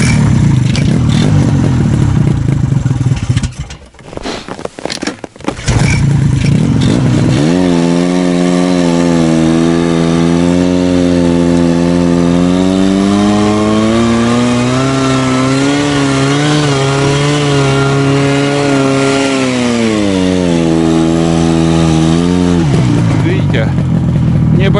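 A vehicle engine strains up a snowy hill, roaring loudly, dipping briefly, then revving with rising, wavering pitch that is held for a long stretch before easing off near the end.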